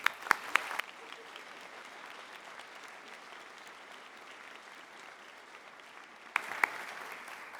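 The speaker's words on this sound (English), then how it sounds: "You deserve a very large round of applause." An audience applauds at a high school commencement ceremony on the Galway stage, a broad, distant wash of clapping with a few sharper close claps at the start and end.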